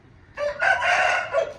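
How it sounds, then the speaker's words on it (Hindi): A rooster crows loud and close in a village farmyard, one drawn-out cock-a-doodle-doo with rising and falling tones, alone without any talk. "मुर्गा बोले कुकड़ों को"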